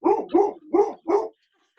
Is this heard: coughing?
no